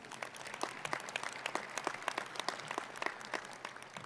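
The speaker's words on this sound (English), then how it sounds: "Let's have a round of applause for Dr." Audience applause at a medical school commencement ceremony, a steady dense crowd clapping that continues evenly throughout with no voices over it.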